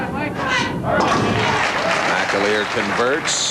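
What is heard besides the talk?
bowling crowd cheering and applauding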